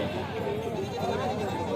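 Goats bleat at a busy weekly sheep and goat market in Galiveedu, the calls rising over a constant murmur of nearby crowd chatter.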